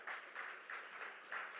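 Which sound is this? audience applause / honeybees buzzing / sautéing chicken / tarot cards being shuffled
audience applause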